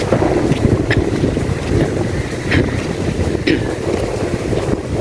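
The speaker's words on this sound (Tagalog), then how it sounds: "lakas ng alon." Strong waves at high tide surge against a baywalk seawall in Masinloc, a loud, continuous wash of water with heavy wind buffeting the microphone and occasional sharper splashes.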